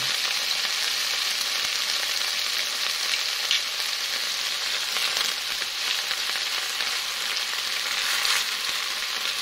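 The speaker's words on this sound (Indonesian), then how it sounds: "Ditumis hingga matang." Stir-frying papaya leaves in a wok with palm sugar, Himalayan salt and sweet soy sauce, a loud, dense, steady sizzle with faint stirring scrapes running throughout.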